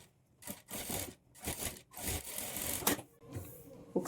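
A sewing machine runs in short repeated bursts with brief pauses while stitching a plain blouse, its motor whirring steadily and close by, with no talking.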